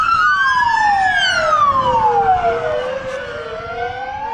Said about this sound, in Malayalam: ഇവിടുന്ന് ആംബുലൻസ് വരുന്നതാണ്.